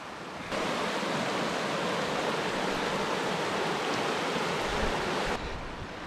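Mountain stream, the ruisseau de la Pisse at 2165 metres in the Queyras, rushing in a steady, dense, loud hiss of flowing water that fades in and cuts off near the end.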